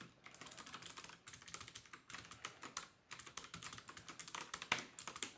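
Rapid, loud clacking of a mechanical keyboard in bursts of fast typing separated by brief pauses, close up.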